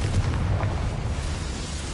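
A Confringo spell explodes in the video game Hogwarts Legacy, a deep, rumbling blast that stays loud and low throughout and slowly fades, with no voices over it.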